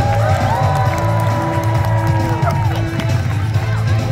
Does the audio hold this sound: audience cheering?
yes